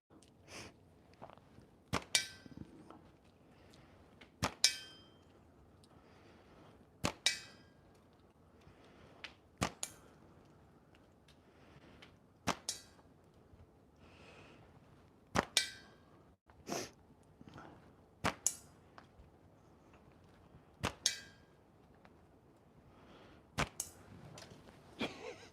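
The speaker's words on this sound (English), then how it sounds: "Hey, good old fashioned speed shooting." A slingshot is fired rapidly at a target, each shot a sharp snapping crack followed by a brief smack, about a dozen shots spaced a second or two apart, close and alone with quiet pauses between.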